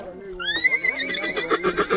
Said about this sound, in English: the horse doesn't seem to be too happy